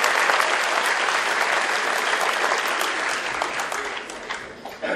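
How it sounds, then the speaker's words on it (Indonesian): Seminar audience at a university in Jakarta applauding the deputy governor, loud dense clapping that holds steady and then tapers off near the end. "Anda bangga, tepuk tangan sekali lagi"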